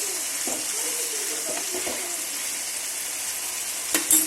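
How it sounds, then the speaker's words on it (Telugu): Curry frying in oil in a pan, a steady broadband sizzle with occasional stirring clinks, close and continuous, ending with a couple of sharper knocks. "కూర చక్కగా నూనెలో మగ్గిపోయింది"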